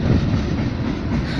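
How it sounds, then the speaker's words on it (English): A Union Pacific mixed freight train of boxcars rolls steadily past nearby, a continuous loud rumble of wheels and cars with no break and no talk. "we had a Union Pacific train go by. It's freight."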